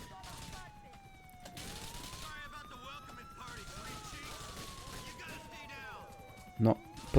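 Rapid bursts of gunfire in Grand Theft Auto: The Lost and Damned crackle over a droning siren-like tone and game sounds, with a sharp loud shot near the end.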